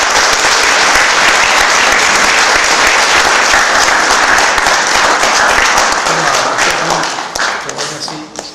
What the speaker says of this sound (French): Nous pouvons l'applaudir à sa juste valeur.